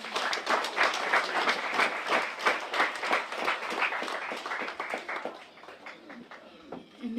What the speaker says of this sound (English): Why don't we give a big clap offering to the Lord tonight?